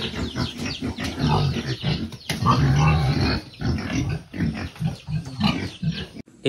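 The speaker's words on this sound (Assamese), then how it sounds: "এইফালে চাক গাহৰিবিলাক" Pigs and piglets on a pig farm in Assam grunt and snort up close in bursts, with some squealing mixed in, loud and irregular.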